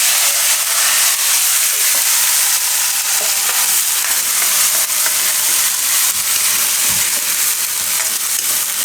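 Ground onion, ginger, chili and garlic paste frying in oil, with asafoetida just added: a loud, continuous close-up sizzle and hiss with stirring, steady throughout and no talk.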